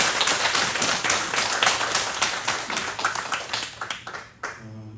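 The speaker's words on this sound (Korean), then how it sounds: "한 번 더 하나님께 박수로 영광 드리겠습니다" A church congregation claps together during a Sunday thanksgiving service, with rapid loud, dense applause that thins out and fades toward the end.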